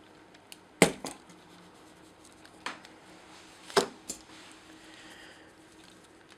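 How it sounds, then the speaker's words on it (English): Sprue cutters snip parts off a plastic model kit sprue: a few sharp, close clicks spaced out over several seconds, with faint handling noise between them and no talk. "I'm simply going to cut that off with some sprue cutters"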